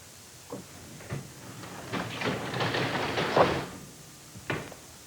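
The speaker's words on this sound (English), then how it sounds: "so now you can raise and lower the door" A newly installed garage door is raised and lowered, giving a steady rolling rumble between several clunks and thumps, with a louder clank near the end.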